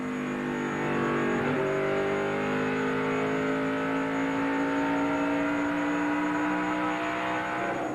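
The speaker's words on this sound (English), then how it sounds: "You listen to the engine as well and see what's going on with the car." NASCAR race car engines at full speed on track during the 2001 NAPA AutoCare 250, a loud continuous roar with a steady rising engine whine, close and sustained throughout without commentary.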